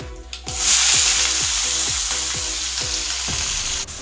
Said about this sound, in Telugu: ఒక 2 నిమిషాలు పచ్చివాసన పోయే విధంగా ఫ్రై చేసుకోవాలి